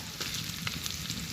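Tomato goes into ginger and garlic frying in oil for a Bengali chicken kosha, giving a steady, close sizzle throughout with a couple of small bursts.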